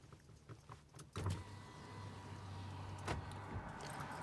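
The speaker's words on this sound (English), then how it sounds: "I'm first going to turn on the car" A Nissan Armada is switched on and an electric power window motor then hums steadily for a couple of seconds, close inside the vehicle, with a few faint clicks and thumps around it.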